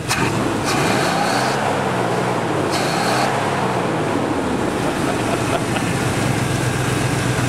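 A Nash rat rod's engine idles close by in a steady, rough rumble that holds for the whole stretch with no talk over it.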